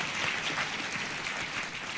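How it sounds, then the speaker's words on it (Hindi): A church congregation claps together in thanks to the Lord, a dense, steady wash of many hands at moderate loudness throughout, with no voices over it. "ताली बजा के प्रभु को धन्यवाद देंगे"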